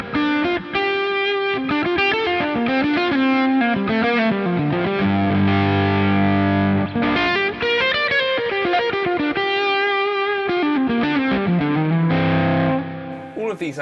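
Fuzzy, overdriven Marshall guitar amp tone, front end pushed with a compressor, playing sustained chords and lead lines, loud and up front with no talking.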